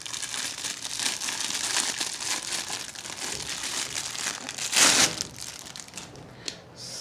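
Packing paper crinkles and rustles continuously in a glassware unboxing, with a sharper, louder crunch of handling near the end; close and steady, no talk.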